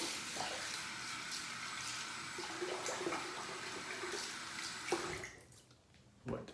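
Tap water running into a sink while the face is wetted for a final shaving pass, a soft continuous splash with small handling sounds that fades near the end.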